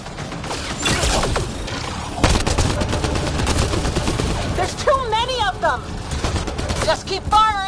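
Rapid gunfire bursts from a Mass Effect Andromeda firefight, dense and continuous, with clattering weapon mechanisms and shouted combat voices throughout.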